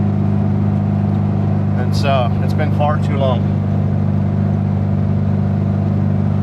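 A Volkswagen Beetle's engine drones steadily and loudly while the car is driven, a constant mid-pitched hum throughout, with someone speaking briefly over it.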